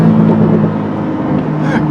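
A Porsche Taycan Turbo electric car, driven in sport mode, gives off a loud, steady whirring hum with a low tonal drone running unbroken throughout.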